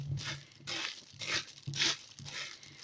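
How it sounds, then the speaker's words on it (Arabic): A plastic bag crinkles and rustles in several close, bursty handfuls as it is pressed over a pickle jar to seal it, fairly quiet with short pauses between crumples. "تجيبي كيس بلاستيك، تجيبي لازم يتمنع عنه الهوا كده، تجيبي كيس بلاستيك كده أهو"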